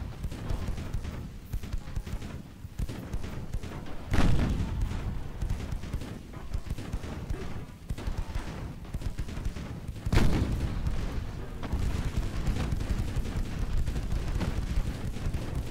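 Naval cannon fire in a dreadnought-era warship battle game rumbles in a constant low roar, with two heavier booms standing out above the steady barrage.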